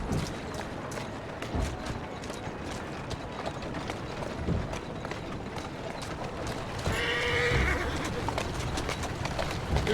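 Horse walking with hooves clip-clopping along a street in Assassin's Creed Syndicate, steady hoofbeats under ambient game noise and a brief mechanical swell.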